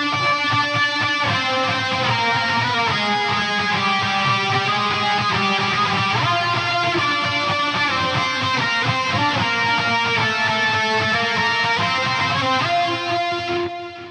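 Prog metal electric guitar through a Mesa Boogie original Rectifier red channel patch with chorus, stereo tape delay and studio reverb, playing a dense, sustained distorted passage at steady loudness, alone with no talking, fading at the very end.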